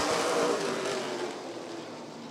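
NASCAR late model race cars accelerating at the green flag at Rockford Speedway: a loud, roaring engine rush that peaks early and then fades slowly as the field pulls away, with no talking.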